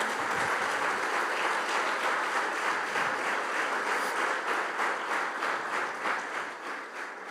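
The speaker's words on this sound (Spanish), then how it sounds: "¿Cuántos pueden darle un fuerte aplauso al Señor?" Congregation in a church gives a loud, sustained round of applause that fills the whole stretch, steady throughout and tapering slightly near the end.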